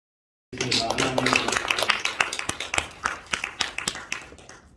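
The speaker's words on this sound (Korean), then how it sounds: "박수 쳐 주시는 분들이 참 복 있는 분입니다" Scattered audience clapping at a church seminar session welcoming a speaker, a moderate run of individual claps that grows into quicker, irregular patter and then tapers off.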